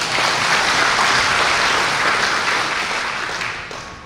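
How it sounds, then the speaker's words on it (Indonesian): An audience at a Dhamma sharing talk bursts into dense, loud applause that holds steady for several seconds, then thins and fades toward the end. "Apakah tepuk tangan dulu ini?"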